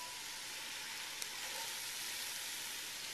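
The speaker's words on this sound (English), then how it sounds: "I'm going to saute all that until they are soft" Celery, onions and carrots sauteing in a pan for butternut squash soup, giving a steady, even sizzle that stays close and constant throughout with no talk.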